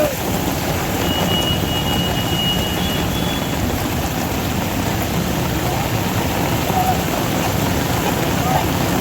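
Heavy rain pours steadily during street flooding in Surat, a loud dense hiss that never lets up, with faint voices mixed beneath the downpour.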